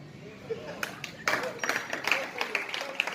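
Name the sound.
audience clapping during a sermon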